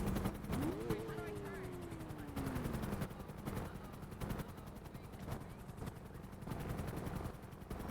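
In a GTA V roleplay game, a helicopter's rotor thrums steadily and is heard close, mixed with bursts of gunfire and a rising engine whine near the start.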